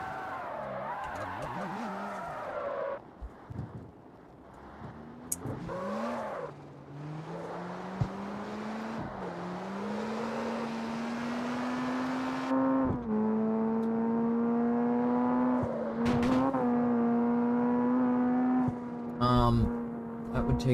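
A video game car drives along a freeway, its engine a steady whine that rises in pitch and holds, with occasional tire squeals and bumps, loud and continuous throughout.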